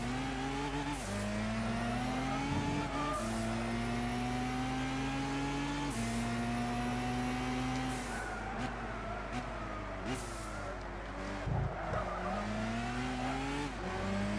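Race cars from Gran Turismo 6 in a 600PP World Touring Car Championship race, engines loud and close, revving up through gears with repeated rising pitch sweeps and shifts, tires squealing, no talk.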